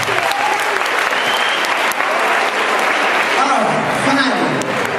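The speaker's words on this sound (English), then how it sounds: "Give yourselves a round of applause." Steady, dense applause from a theater audience at an anti-bullying stage program fills the whole stretch, loud and close, with a few crowd voices mixed in.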